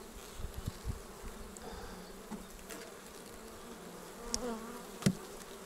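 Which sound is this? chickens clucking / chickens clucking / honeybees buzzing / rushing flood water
honeybees buzzing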